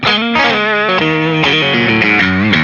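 Electric guitar played with hard raked notes through heavy distortion and effects, a loud, dense, continuous run with quick note changes throughout.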